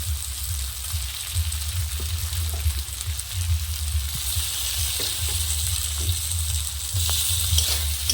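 Potatoes frying in oil-released spiced masala for a sour fish curry, a steady broad sizzle with occasional soft stirring clicks, close and continuous with no talking.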